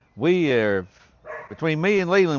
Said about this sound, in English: Excuse the dog, there's a chicken hawk acting up.